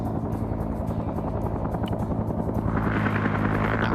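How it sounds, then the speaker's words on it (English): Helicopter rotor thumping steadily in a Vietnam-era combat video game, a patrolling aircraft passing fairly close with a dense, continuous beating drone that swells slightly louder toward the end; no talk. "Random patrolling aircrafts."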